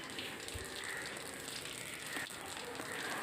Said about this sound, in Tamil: இப்போ நம்ம இதில் எடுத்து வச்சுருக்கிற ஜீரகமும் வெந்தயமும் சேர்த்துக்கலாம்.